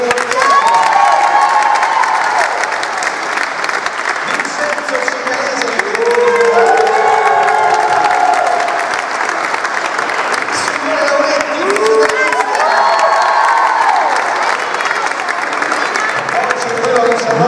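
A crowd at a futsal club's team presentation in Fondi claps and cheers loudly throughout, with whoops and shouted voices rising over the dense applause for the backroom staff.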